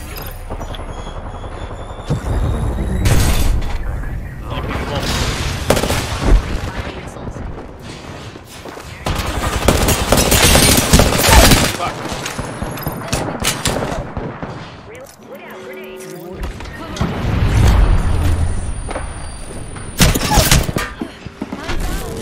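Gunfire bursts and explosive booms from the Apex Legends battle royale game in a ranked match, dense and loud in clustered volleys with a helicopter-like drone underneath and occasional voice chatter.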